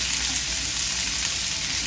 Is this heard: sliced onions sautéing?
yes